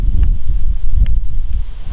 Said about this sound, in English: The wind, you're probably going to hear the wind, it's quite horrendous.